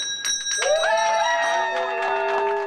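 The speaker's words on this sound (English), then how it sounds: "Normally, a ringing bell is a call to action for a firefighter, but for Ryan Johnston" A bell rings amid a lively crowd as a firefighter finishes brain cancer treatment, with cheering and clapping blending into the ringing for a few seconds.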